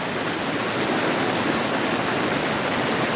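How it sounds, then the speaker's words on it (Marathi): Rain-swollen water rushes forcefully through a narrow channel during a heavy downpour, a steady, dense, loud roar with no pauses and no voices. "प्रचंड मोठ्या प्रमाणावर अत्यंत अरुंद जागेतून वाहणारं पाणी"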